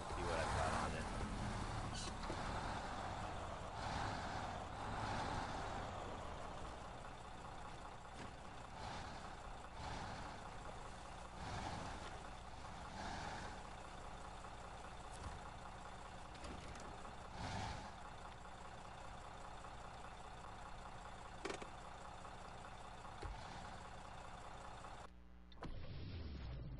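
Heavy off-road truck in SnowRunner rolling into a garage, its engine droning steadily with brief air-brake hisses and clunks throughout, cutting off abruptly near the end.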